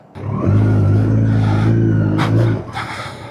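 Kawasaki ZX14 motorcycle ridden through Dubai, its engine rising into a loud, steady drone for about two seconds before easing off, with brief wind noise near the end.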